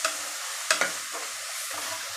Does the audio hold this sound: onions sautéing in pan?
yes